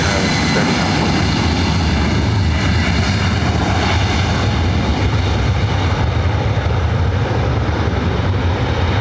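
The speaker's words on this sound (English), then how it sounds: "Delta A330 Neo heading to Paris" A Delta Airbus A330neo at LAX gives a loud, close, sustained jet engine roar with deep rumble and layered whining tones, steady and unbroken throughout.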